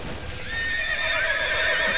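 A horse in the video game Tera Rising gives a loud, close whinny with a rising and wavering pitch, alone without talk.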